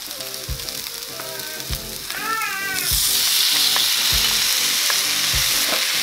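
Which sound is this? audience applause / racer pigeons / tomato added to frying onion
tomato added to frying onion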